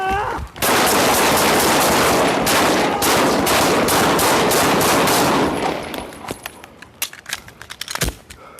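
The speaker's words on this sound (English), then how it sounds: "Shots fired, officer down, suspect down." Gunfire during a police critical incident: a rapid, dense volley of many loud shots lasting several seconds, close by, then thinning into scattered sharper cracks and clatter before tapering off.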